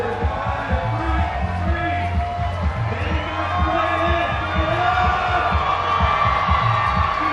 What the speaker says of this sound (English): if you're wondering what the cheer is for